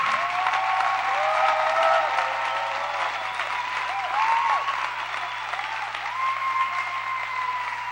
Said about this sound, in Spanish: Ahora, dé un aplauso como para el Señor.